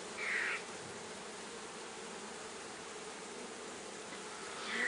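Honeybees in a top bar hive hum in a steady, dense drone throughout, a little agitated, with a louder swell of buzzing near the start and again at the end as bees pass close.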